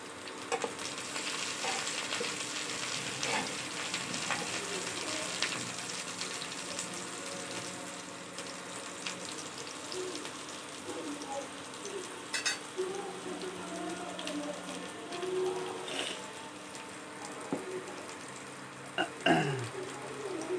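Chopped onions frying in a pan for chilli rice made with rice flour, a soft continuous sizzle with occasional stirring scrapes and clinks, fairly quiet and steady throughout.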